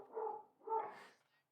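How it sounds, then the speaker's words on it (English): A dog gives two short, muffled barks about half a second apart, fairly faint and alone, with no talking over them. "My dogs are barking. My dogs, they're barking."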